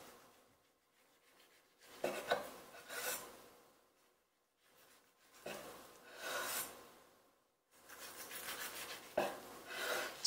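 A knife saws back and forth through food in several slow rasping passes, quiet and close, with pauses between strokes.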